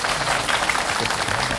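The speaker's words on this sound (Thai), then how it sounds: "ได้ยินเสียงปรบมือ" Applause in a Thai parliamentary assembly: a dense, continuous clapping from many people, fairly loud and steady across the brief stretch, with no clear speech over it.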